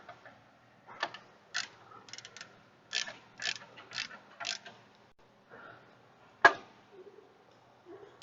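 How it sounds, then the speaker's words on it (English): Hand wrench ratcheting on bolts in an automotive shop, a series of sharp clicking bursts in an uneven rhythm with short pauses, close and fairly quiet, with no talking. "Let's just use a wrench for starts and get them started and good and tight first"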